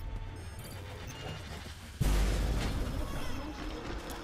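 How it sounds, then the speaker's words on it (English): A logic bomb detonates in the video game Remember Me, a sudden heavy blast midway that jumps from quieter game ambience into a loud, sustained roar and rumble that slowly fades. "Logic bomb."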